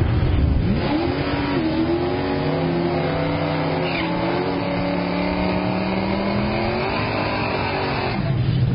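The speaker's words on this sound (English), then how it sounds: "Pumping through the 5-speed. Yeah, looks like the Mustang is going to definitely outmuscle him." A Mustang drag racing down the strip, its engine roaring loud and close as it climbs through the gears of a 5-speed, with rising and falling pitch at each shift and no talking.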